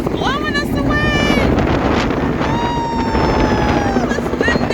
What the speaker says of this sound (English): Ah, look at the wind!